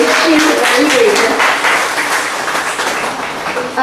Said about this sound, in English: a loud round of applause for her because she's very brave